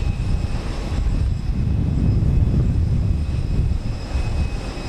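A Frontier Airlines Airbus A321 jet at Houston Intercontinental gives a steady, low engine rumble, sustained and moderately loud with no talk over it.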